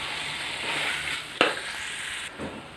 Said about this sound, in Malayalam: ഇനി നമ്മൾ ഫ്രൈ ചെയ്ത് വെച്ചിരിക്കുന്ന ചിക്കൻ്റെ പീസുകൾ ഇതിലേക്ക് ഇട്ട് കൊടുക്കാം. ഒന്ന് യോജിപ്പിച്ച് കൊടുക്കാം.